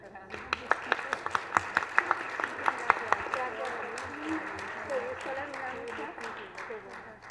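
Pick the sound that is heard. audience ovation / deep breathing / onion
audience ovation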